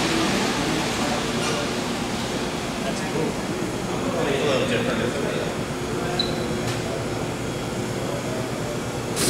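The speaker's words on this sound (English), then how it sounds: "This is the most exclusive subway in the world." A steady, loud rumbling roar of an underground Capitol subway train in motion fills the whole stretch, with faint voices underneath.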